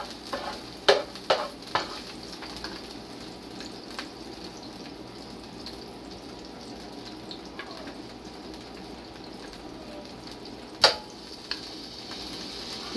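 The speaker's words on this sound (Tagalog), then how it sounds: "Tapos ilagay ko na po dito yung minarinate kong beef." Marinated beef sizzles steadily in a hot pan for home-style Filipino beefsteak, with a few sharp clatters of a utensil stirring near the start and another knock later, no talking.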